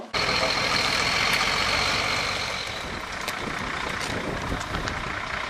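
A loud, continuous Renault engine running with a steady rumble and hiss, holding level throughout with no talking.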